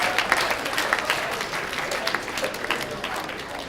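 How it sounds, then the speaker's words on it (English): Audience applause after a hypnosis show at a high school post-prom night, a dense, steady wash of clapping with scattered voices mixed in throughout. "Give Chris and all these other people a great round of applause."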